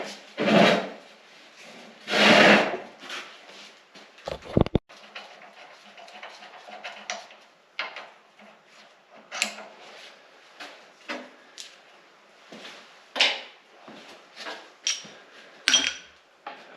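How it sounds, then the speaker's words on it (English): Bolts are worked loose on the gear case of a LeTourneau Tournapull scraper, a series of close metallic clanks, taps and rattles in irregular bursts with quiet gaps between them. "I gotta undo these last bolts here."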